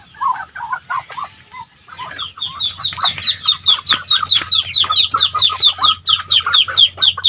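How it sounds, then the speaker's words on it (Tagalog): Growing chicks raised as a new poultry line clucking and peeping in rapid repeated bursts, close and fairly loud, building into a steady rhythmic chorus with no talk. "papakita ko sa inyo yung mga sisiw dati na mga maliliit pa dati, ngayon to malalaki na sila"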